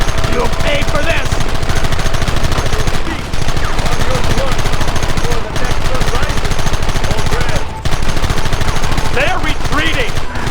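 Sustained gunfire in the Red Dead Redemption video game, with dense rapid shots and volleys that run without a break across the whole stretch. The battle is loud and close, and voices sit under the shooting.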